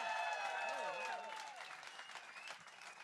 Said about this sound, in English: By round of applause in the live studio audience